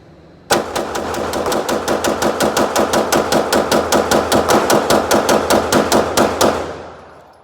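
An 80% built G17 pistol fed from an ETS magazine fires a long rapid string of about thirty loud, evenly spaced shots, close and sharp, with no talk.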